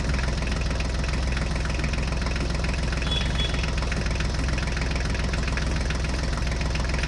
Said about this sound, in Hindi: ढोलू और बोलू भी ट्रैक्टर गाड़ी पर बैठ गए हैं।